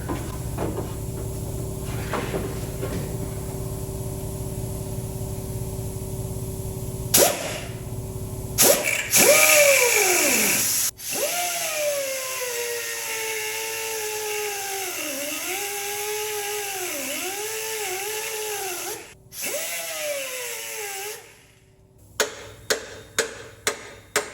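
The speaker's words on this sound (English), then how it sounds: "we're gonna have to cut this timing cover off too" A cutoff tool slices through the timing cover on a 1969 Ford F100 engine, its loud whining tone wavering as it bites and loads, followed by a string of sharp taps near the end.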